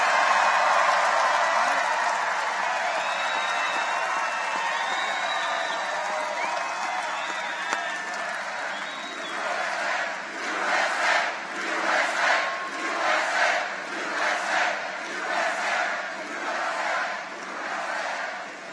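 A large political rally crowd in Pensacola, Florida, roaring and cheering continuously, with surges of rhythmic chanting and applause swelling in the second half.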